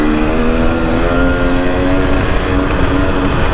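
A motorcycle engine warming up before an off-road trail ride, idling steadily and loudly up close with an even, continuous hum and no voices.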